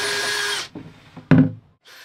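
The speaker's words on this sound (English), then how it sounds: "Always horrible to drill through your boat" A loud power drill whines steadily for about half a second through a plywood catamaran hull, then stops, followed by a few scraping knocks and a short second burst of drilling.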